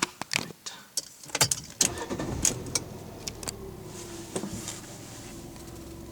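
A 2015–2016 Fiat 500 engine cranks and catches amid several sharp clicks and key or switch sounds, then settles into a steady low idle hum, with someone speaking briefly at the start.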